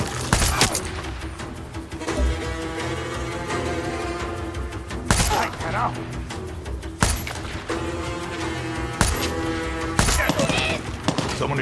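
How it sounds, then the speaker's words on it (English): Gunfire in the Far Cry 6 video game, several sharp loud bursts of shots spaced a few seconds apart over a steady busy background of game sound and music. "Someone is shooting."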